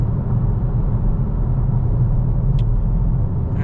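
A Charger car with automatic transmission on the road, heard from inside as a steady, loud low engine and road rumble with no break.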